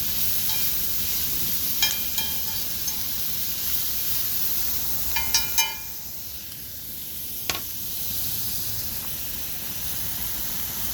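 Andouille sausage browning in a pan gives a steady sizzle and hiss, with a few light clinks and stirring sounds scattered through it.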